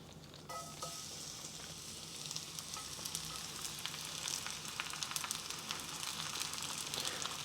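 Pancake batter sizzles in a hot oiled pan, a steady close crackling fry that swells slightly after the first half second and holds, with faint scrapes and no talk.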